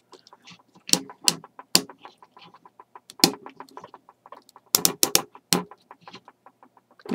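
Ratcheting joints on a Transformers Animated Cybertronian Megatron toy click as the arms are positioned, a quick series of sharp, close plastic clicks in irregular bursts with quiet gaps between.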